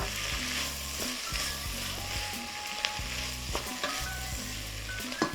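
Ingredients sizzling and frying in melted butter in a pan, a loud continuous crackle with stirring scrapes and small clinks close by, with no one speaking.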